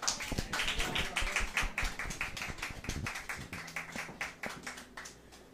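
A small audience at a folk music night claps for the performer, with scattered, uneven hand claps close by that thin out and soften toward the end.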